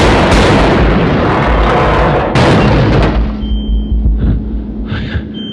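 Loud, dense bursts of gunfire and booming blasts in a Five Nights at Freddy's VHS-style horror game fill the first few seconds, then settle into a rumbling backdrop with scattered smaller shots.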